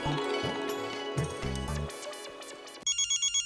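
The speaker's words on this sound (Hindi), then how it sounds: "सुंदर का फोन" A telephone rings with a repeating electronic ringtone over background music, then a few short trilling rings continue alone near the end.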